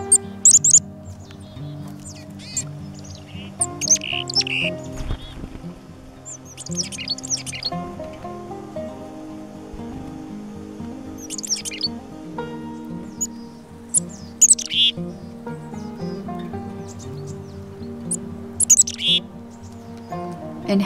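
A winter flock of chickadees calls in the woods, high chirps and chattering notes coming in scattered bursts over a soft, low background hum.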